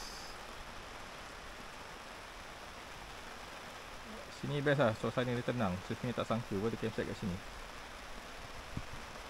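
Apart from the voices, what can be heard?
light drizzle rain at forest campsite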